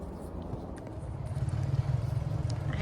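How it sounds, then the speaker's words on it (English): ATVs drive past on a dusty road near Oaks Park, a low engine rumble that grows louder and nearer partway through. "some guys on ATVs just went by"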